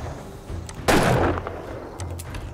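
Gunfire in the video game 7 Days To Die during a horde fight, with one loud, sharp shot standing out above a background of softer thuds and game noise.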